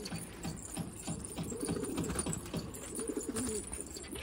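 Pet pigeons cooing in a loft, a steady run of soft, low, rolling coos repeating close by with faint rustling beneath, no talk.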